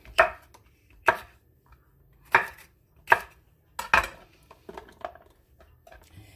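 A knife cuts through vegetables for egg rolls on a cutting board in five distinct, evenly spaced chops, followed by a few lighter taps, close and clear against near silence.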